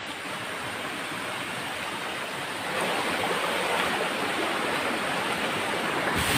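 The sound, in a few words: Old Buruwisan waterfall in Siniloan, Laguna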